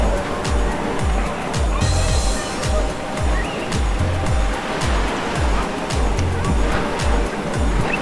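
Ocean surf rolls steadily onto a busy beach, waves washing in a continuous, loud rush with periodic swells and no clear voices.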